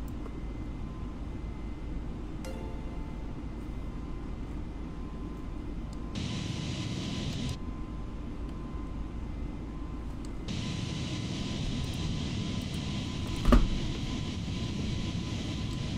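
Airplane engine droning steadily while climbing in a video game, a continuous broad roar that shifts tone partway through, with one sharp brief bump near the end and no voices.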